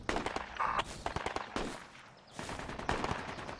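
Gunfire in the PRTA military shooter on the Sahel map during a one-life event: loud, rapid bursts of automatic shots and single cracks that repeat across the whole stretch, with brief gaps between volleys.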